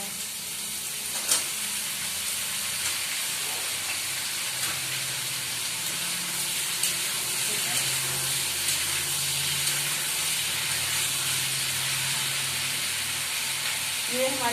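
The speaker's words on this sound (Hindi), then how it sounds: "ये प्याज और आलू साथ में ही फ्राई होंगे।" Onions and potatoes fry together in a pan with a steady, fairly loud sizzling hiss that runs unbroken from start to finish, with a few faint stirring scrapes but no talking.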